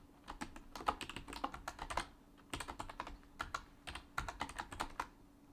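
Quiet typing on a computer keyboard, bursts of rapid key clicks separated by short pauses, close and alone with no talking.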